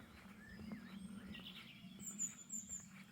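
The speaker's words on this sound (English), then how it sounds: "What sounds like wrens and robins." Small songbirds such as wrens and robins sing faintly in the Brecon Beacons hills, giving short, thin chirps and trills over a low outdoor rumble.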